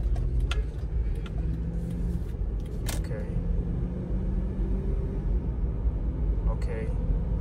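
A 4x4 Ford Explorer rumbles along a bumpy road, low engine and cabin noise throughout with sharp knocks and rattles from the bumps as it moves through its gears.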